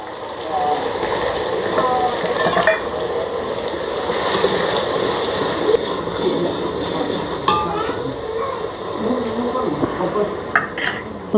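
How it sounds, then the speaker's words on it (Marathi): Coconut and masala stirred in a frying pan for a homemade chicken dish, a dense steady sizzle with scattered spatula scrapes and metallic clinks, and a voice faintly present underneath. "ते व्यवस्थित हलवून घेऊया"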